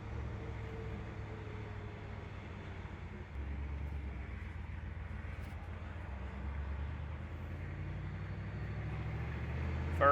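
A 1964 Mercury Marauder engine pulls through its gears, a steady close-up low rumble that shifts and swells around the gear change, with road noise underneath.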